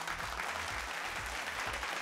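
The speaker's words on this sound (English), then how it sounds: "let's give them a round of applause for an effort" Steady audience applause in a TV quiz competition studio for a school team, a continuous dense clapping texture with a low rhythmic hum beneath it.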